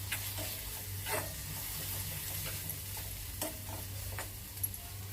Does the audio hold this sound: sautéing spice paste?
yes